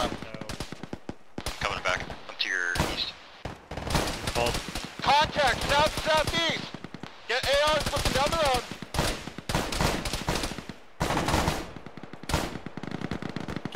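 Gunfire in a military shooter video game: repeated bursts of automatic fire and single shots, loud and close, in irregular clusters, with a voice speaking between the bursts.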